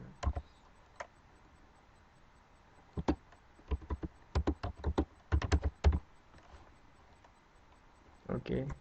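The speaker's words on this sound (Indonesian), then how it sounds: "Kita ketikkan angka sembarang." Numbers being typed on a computer keyboard during a C programming exercise, heard as sparse clusters of sharp keystroke clicks with pauses between bursts.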